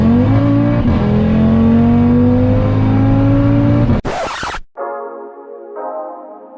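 An Audi RS3 engine revs while driving, a loud droning pull that climbs steadily in pitch, cut by a sharp burst, then settling into lower, shifting engine tones.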